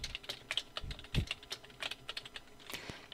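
Someone types text on a computer keyboard while working in Photoshop. Quick, light clacks come at an uneven pace, close by and fairly quiet.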